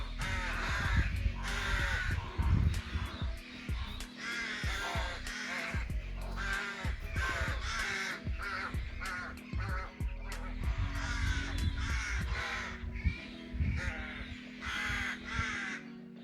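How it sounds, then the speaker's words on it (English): Many crows caw loudly and continuously at a coastal rookery near Salcombe and Bolt Head, harsh overlapping calls layered over steady wind noise. "behind us we've just got a rookery, so it's full of crows"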